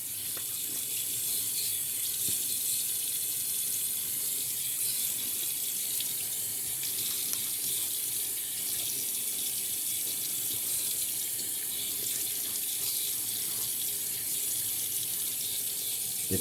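Steady stream of running tap water fills the whole stretch as a shaving brush is soaked before lathering, a continuous close hiss with no talk over it.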